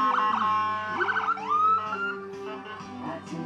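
Horns and siren of a Superior Ambulance emergency vehicle at the 2024 Elmhurst St. Patrick's Day Parade on Spring Road, loud and close, with wavering siren tones and steady horn blasts running through the whole stretch.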